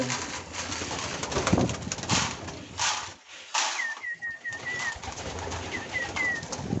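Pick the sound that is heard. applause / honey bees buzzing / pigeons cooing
pigeons cooing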